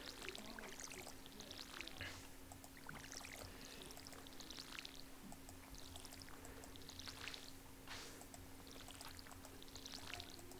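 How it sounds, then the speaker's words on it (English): Watering crops in the farming game Stardew Valley brings repeated soft splashing pours, a series of evenly spaced watery bursts over a faint steady hum, with no talk. "I'll water the parsnips and strawberries"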